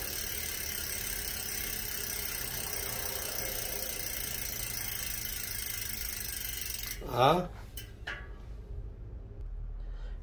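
A freshly tuned bicycle wheel spins freely with a steady whirring, ticking hum for several seconds, then a brief voice cuts in before the sound fades.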